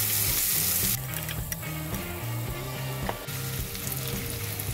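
About 1.5 large onions fry in a pan until golden brown for mint rice, a steady close sizzle broken by stirring scrapes and shifts.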